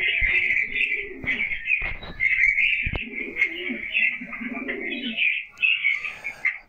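Pigeons in a loft coo in repeated low, throaty phrases alongside steady chirping from other birds, the sound close and continuous throughout with no talking.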